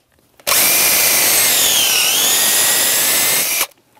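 A power drill bores a tap hole into a maple tree for syrup, whining loudly and steadily for about three seconds, its pitch dipping briefly midway, with abrupt start and stop.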